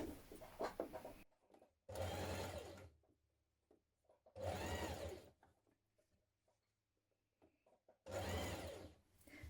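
A sewing machine stitches binding onto the raw edge of a dress collar for a Burda 6265 dress, running in three fairly loud, steady motor bursts separated by short quiet pauses, with no talking.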